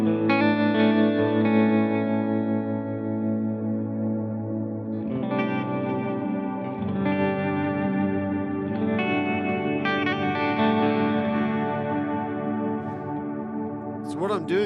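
Sustained, swelling tones wash together with a glassy, shimmering reverb tail, notes blurring and lingering as new chords are struck.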